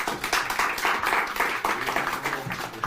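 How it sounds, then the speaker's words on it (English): Audience applause for a speaker at a cybersecurity talk, heard as moderately loud clapping in a fairly regular pulsing rhythm, sounding like a smaller group of hands, continuing steadily without talk. "Donc on applaudit Nestor, s'il vous plaît."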